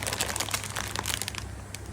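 A bag of chips crinkles and crumples up close in continuous rustling handling, with no voices over the two seconds.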